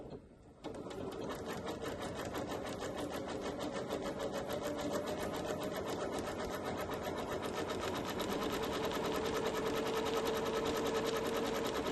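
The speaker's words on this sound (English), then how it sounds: "I'm just going to do what's on the screen and show you a zigzag stitch." A Janome MemoryCraft 7700 sewing machine runs steadily through a zigzag stitch, its fast, even mechanical whir and needle clatter continuing close and clear for the whole stretch with no talking.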